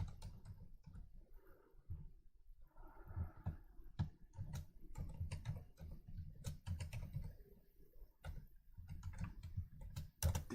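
Faint, scattered clicks of typing on a computer keyboard in a quiet room, irregular taps over a low background hum, with no talking.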